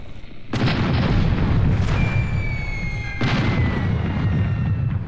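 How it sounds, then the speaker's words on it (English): Cannons fire in the airship combat game Air Buccaneers, with a heavy boom at the start and a second booming shot midway, each followed by a long rumbling roar that fills the clip. "Fire! Load cannonballs! Load gunpowder!"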